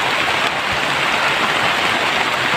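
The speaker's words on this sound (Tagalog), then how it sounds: "Ulan na guys." Steady, dense rain pours down outdoors, a continuous loud hiss of drops on surfaces with no break and no voices.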